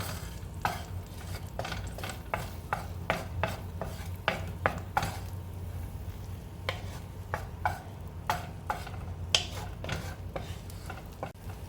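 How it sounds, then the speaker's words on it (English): Salmon and shrimp fried rice in a pan: repeated close scraping strokes of a utensil stirring and tossing the seafood, in an uneven rhythm over a soft steady sizzle, with no talking. "So for now, just lightly fry it, and that is perfectly fine"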